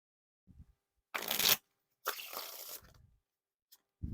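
Two crisp bursts of Theory11 Jimmy Fallon playing cards being riffle shuffled close up, each a rapid fluttering rush, with soft taps of the deck between them.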